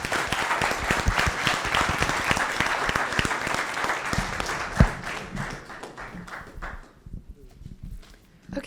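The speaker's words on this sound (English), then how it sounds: "Round of applause again." An audience at a sports management sustainable development competition gives presenters a dense, lively round of applause that holds steady for several seconds, then thins out and fades to scattered claps near the end.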